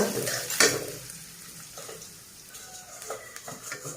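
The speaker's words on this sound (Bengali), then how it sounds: "পেঁয়াজ আমি একটু ভালো করে ভেজে নেব" Onions fry in a pan while being stirred for a Bengali sea fish curry, with a soft sizzle under a sharp clank of utensil on metal and intermittent scraping clicks.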